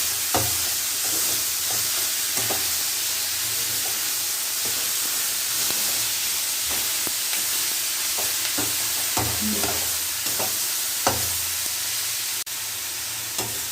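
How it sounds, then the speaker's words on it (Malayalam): Grated coconut and curry leaves for ginger curry fry in a pan, a constant sizzling hiss broken by repeated scraping strokes of stirring at an uneven rhythm, close by. "ഒരേ അളവിന് എല്ലാം കൂടെ ഇട്ട് നമുക്ക് വറക്കുക."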